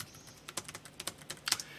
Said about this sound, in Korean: 우선은 타이핑을 계속 쳐볼게요